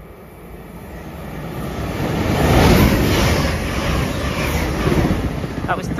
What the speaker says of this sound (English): Passing through now is a ScotRail service from Edinburgh Waverley to Dunbar.